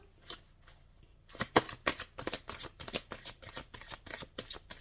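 Tarot cards being shuffled by hand close up, with a quiet start and then a rapid run of crisp riffling bursts and soft slaps that repeat in a quick, uneven rhythm, with no voices.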